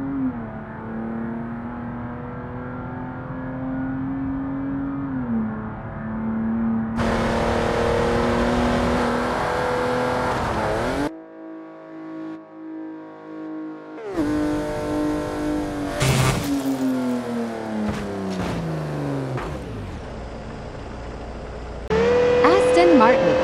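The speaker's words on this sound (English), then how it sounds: "Toyota Supra." Toyota Supra engine in the BeamNG Drive racing game, a loud, steady drone that rises and falls as it revs and accelerates, with a short drop-out midway and a higher whine near the end.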